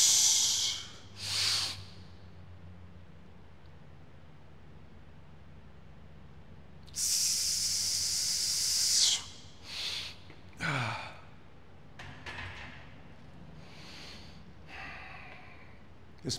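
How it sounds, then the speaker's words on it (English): Heavy forced breaths between squat reps, a few sharp hissing exhales and gasps in bursts separated by quiet pauses, close and fairly faint. "This breathing method, I call it double compression breathing"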